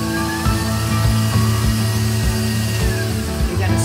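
A stand mixer with a whisk attachment works flour into dough for pan de Mallorca, a steady close motor drone with rhythmic knocking as the whisk turns.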